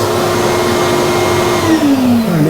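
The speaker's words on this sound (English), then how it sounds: "Turn the exhaust off." An exhaust fan runs as a loud, steady whir close by, with no talking, and its pitch slowly drops near the end as it begins to spin down.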